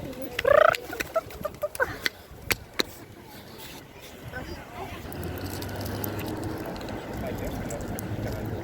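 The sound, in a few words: birds at the beach, hungry fowl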